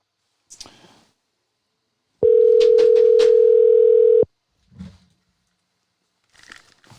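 A telephone dial tone sounds as calls are picked up. It is a loud, steady, unbroken tone lasting about two seconds, with faint handling clicks and rustles before and after it.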